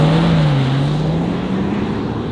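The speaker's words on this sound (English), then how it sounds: "in the hard acceleration, there is quite a sufficient little grunt coming from the engine" A widebody Rolls-Royce Wraith Black Badge's 717 hp engine pulling hard under acceleration, a steady droning growl with a gently rising pitch, loud and close from inside the cabin.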